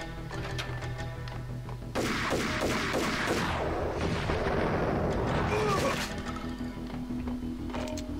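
Shotgun blasts in the video game Max Payne, a burst of loud booming shots with crashing impacts over a steady low hum, the firing running for several seconds in the middle.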